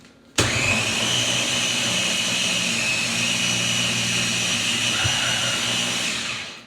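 A food processor whirs to life abruptly and runs at a steady loud, high-pitched motor roar for several seconds, churning butter and flour, then winds down.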